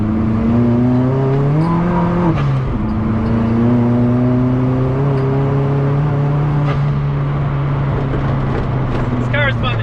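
A turbocharged 1.8t engine in an MK2 Golf pulls steadily while driving on a road. Its loud, constant drone drops in pitch at one gear change, then climbs and settles again.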